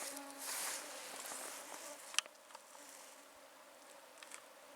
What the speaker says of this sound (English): Don't you just love mosquitoes?